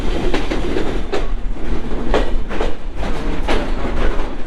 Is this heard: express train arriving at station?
yes